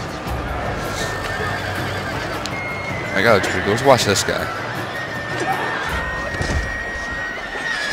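Horses whinny shrilly in the midst of a Total War: Shogun 2 cavalry battle, two sharp neighs standing out over a constant rumble of hooves and combat, while someone comments casually over the din.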